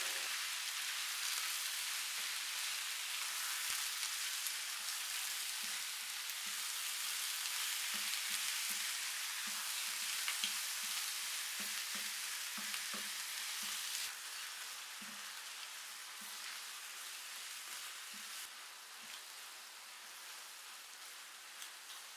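Half a kilo of beef mince sizzles steadily in a pan over medium heat, a continuous hissing fry with scattered small pops and occasional stirring scrapes, and no voices.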